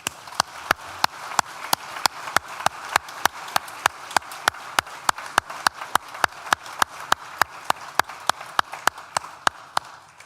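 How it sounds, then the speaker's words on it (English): Sharp, evenly spaced single claps ring out one after another at a steady rhythm through a graduation ceremony hall, sparse and moderately loud with light room echo and no voices. "Please join me in thanking them with a well-deserved round of applause."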